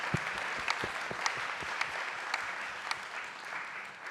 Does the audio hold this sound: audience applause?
yes